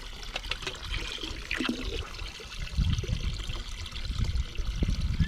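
Water is pumped and circulated between the two sides of a homemade bait tank, a continuous close splashing and trickling with gurgling surges and no talk.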